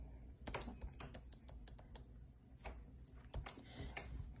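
Taps on an iPad 10.2 touchscreen through a protective case, a quick irregular run of light clicks and ticks, close and fairly quiet, with no talking.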